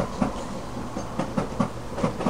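Train cars roll along a nearby railway track, a continuous low rumble with regular rhythmic clickety-clack beats from the wheels passing over rail joints, fairly close and steady.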